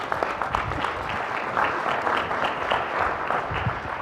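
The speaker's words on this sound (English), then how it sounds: "Let's give Rob a round of applause." Applause greets Rob McGreevy before his talk on marketing new products in mobility and SaaS: a moderate, continuous patter of many hands clapping, steady throughout at middle distance.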